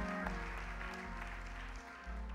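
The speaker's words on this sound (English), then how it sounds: "Give her a hand clap." A church congregation clapping during a Sunday evening service, soft, steady applause heard from a distance beneath a low droning organ-like tone.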